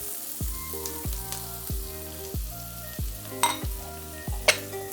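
Mushrooms sizzling in a hot pan after being seasoned with salt and pepper, a steady close frying hiss broken by regular clacks and scrapes of stirring, with a couple of sharper crackles near the end.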